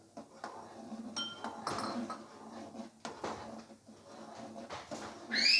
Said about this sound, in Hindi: एंड अब हमें इसको मिक्स कर लेना है। तो हम इसको मिक्स करते हैं।